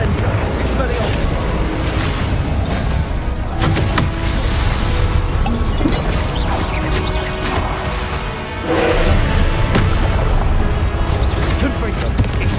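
Confringo blasting spells in a Harry Potter video game set off a dense, loud wash of crashing explosions and booms that overlap with game effects. Spoken voices break in now and then.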